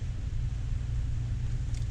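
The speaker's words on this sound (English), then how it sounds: "But backing the truck up to the gate now." A truck backing up to a gate near the Quebec border in Maine gives a steady, close, low engine rumble that holds evenly throughout, with no talking.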